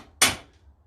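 A single sharp hammer strike rings out in a garage during a rear axle bush replacement, one loud impact that decays quickly into quiet.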